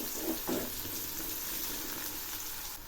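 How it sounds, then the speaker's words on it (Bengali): Finely chopped onion frying lightly in oil in a pan with bay leaf, a steady close hiss of sizzling with a couple of brief stirring scrapes early on. "এই পেঁয়াজগুলো হালকা করে ভেজে নেব"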